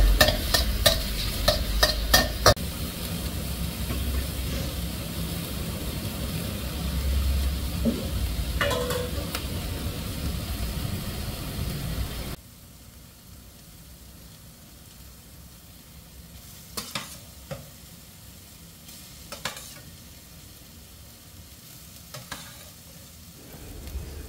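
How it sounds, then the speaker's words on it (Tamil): Fried rice stir-fried in a hot pan with pepper powder, dried chilli pieces and salt: a loud, steady sizzle with rapid scraping taps at first, then a quieter hiss with scattered spatula knocks. "அதுக்கு மிளகுத்தூள், துண்டு மிளகாய் தூள், உப்பு எல்லாம் போட்டு மிக்ஸ் பண்ணி வதக்கிக்கிறோம்"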